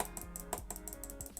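Rapid typing on a computer keyboard, a quick run of close, crisp key clicks in an uneven rhythm, heard alone without talk.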